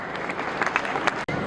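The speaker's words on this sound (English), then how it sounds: "Let's have a round of applause for him." Brief audience applause at a school science exhibition in Kasganj, a dense patter of claps with a few louder hand strikes and a murmur of voices underneath.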